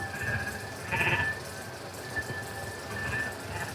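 Sheep and goats on a Norwegian farm, a few faint bleats standing out over a low rumbling background, one near the start and others later.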